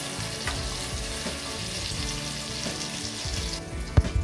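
Onions browning in a pan with garam masala, a dense steady sizzle and frying crackle, close and fairly loud, with a few stirring knocks toward the end and no talking.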